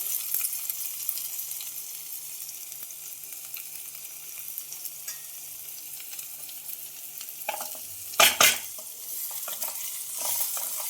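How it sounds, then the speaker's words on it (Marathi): Onion sautés in a pan for dry chana dal zunka, making a close, steady sizzle with occasional stirring scrapes and a sharp burst of louder clatter near the end. "आता हे छान परतून घ्यायचे आपल्याला"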